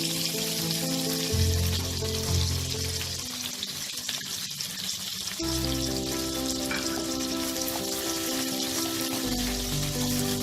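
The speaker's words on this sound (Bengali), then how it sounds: "পেঁয়াজটার সাথে তরকারিগুলো একটু ভাজা ভাজা হবে।" Chopped onion and vegetables sizzling in a pan while cooking a Bengali chorchori, a soft, steady frying hiss with occasional stirring clinks and a tonal hum, fairly quiet and without voices.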